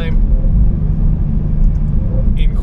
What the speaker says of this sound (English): I like the exhaust notes that this car delivers.